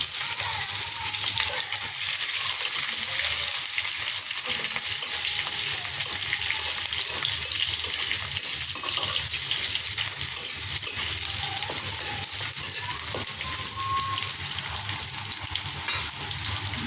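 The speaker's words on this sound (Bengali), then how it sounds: "পেঁয়াজগুলো দিয়ে ভালো করে ভেজে নেব।" Onions sizzling and frying steadily in hot oil in a kadai, with whole cinnamon, cardamom, peppercorns, cloves and bay leaf, for a goat tripe curry; a continuous close, even crackle throughout with occasional stirring and no talk.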